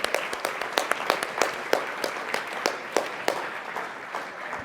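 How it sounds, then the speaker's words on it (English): An audience at an awards celebration and fundraiser applauds the sponsors with fairly quiet, sparse clapping. Individual hand claps stand out in an irregular rhythm against a soft room background, with no voices on top. "Big round of applause"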